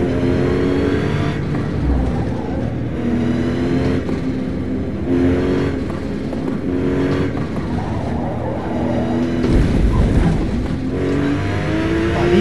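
Racing car engine in Forza Motosport on the Virginia circuit, revving steadily and loudly throughout with rising and falling pitch as the throttle is worked, no pauses.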